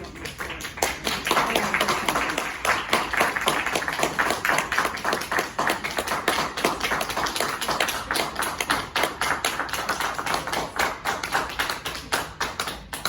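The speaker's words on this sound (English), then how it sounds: "Maybe if you stop clapping." Audience members clap steadily at a school board meeting, a dense, sustained round of many hands that fills the room without letup.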